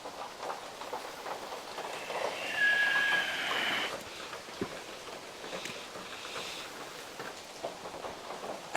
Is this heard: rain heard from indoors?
yes